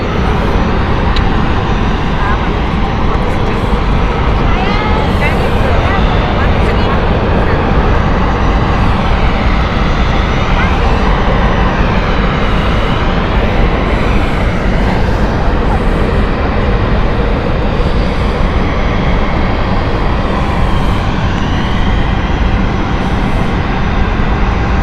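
A Falcon business jet at London City Airport gives off a continuous, loud engine roar with a whining tone that rises and falls, steady for the whole stretch.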